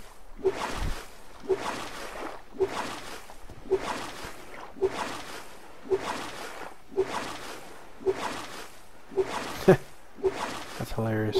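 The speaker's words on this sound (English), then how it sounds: "so it still makes the water sound when you're on ground." Water splashing and sloshing sounds from the survival video game Stranded repeat in regular bursts about once a second, over a low game drone, with a voice talking now and then.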